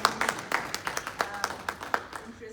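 A small audience claps after a presentation on a data protection law guide, a sparse round of separate, distinct claps at a moderate distance that thins out after a couple of seconds.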